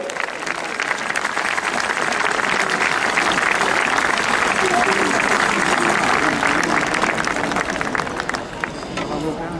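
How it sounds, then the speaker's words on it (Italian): A large crowd in Piazza San Benedetto in Cassino applauds at the arrival of a Benedictine torchlight procession, with dense, loud clapping and crowd murmur that lasts nearly ten seconds before easing slightly. "L'applauso della piazza di San Benedetto."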